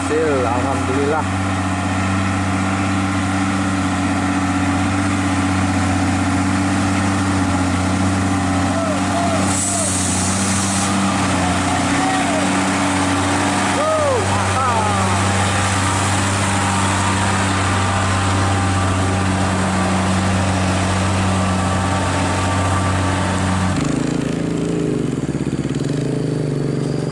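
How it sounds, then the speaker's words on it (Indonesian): A Hino container truck labours over a damaged mountain road in East Kalimantan, its engine droning loud and steady with a low rumble and occasional higher squeals. A voice talks over it before the engine note drops sharply near the end. "Lagi truk kontainer Hino di belakang disusul-susul."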